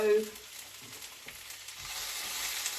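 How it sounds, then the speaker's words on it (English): Small pieces of salmon stir-frying in a pan for peanut butter ramen, a steady close sizzle with light stirring scrapes and a brief clatter at the start. "gonna literally stir fry that. I've cut the salmon up quite small so it cooks quite quickly."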